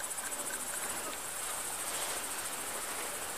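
Insects buzz and chirp in a village setting in late August, a dense, steady high-pitched drone that continues unbroken throughout without any other sounds.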